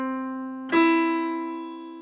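Two piano notes sound in sequence: a sustained C fades gently, then an E strikes crisply just before the midpoint and rings out alone.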